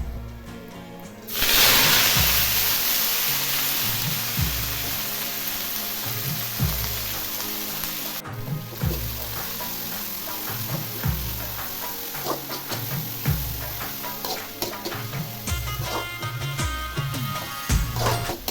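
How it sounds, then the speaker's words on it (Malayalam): Red amaranth greens hiss and crackle in hot oil, a steady sizzle with scattered clinks and stirring knocks from a utensil against the pan. "ചീര ചേർത്ത് ഒന്ന് നന്നായിട്ട് വഴറ്റിയെടുക്കാം"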